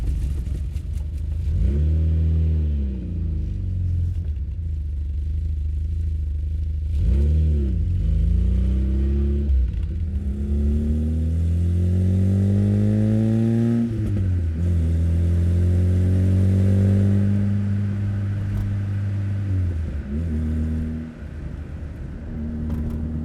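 A Volkswagen Golf I GTI hatchback engine revs up through several gears, pitch climbing repeatedly then dropping at each shift, loud and close from inside the moving car.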